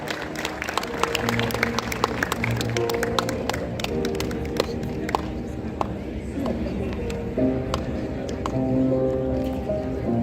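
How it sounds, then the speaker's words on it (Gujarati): Audience members at a homoeopathic summit in Vadodara clap for a welcome and felicitation. The clapping is brisk and dense at first, then thins toward the end, with someone talking throughout. "તાળીઓથી વધાવી લઈશું આ સ્વાગત સન્માનને"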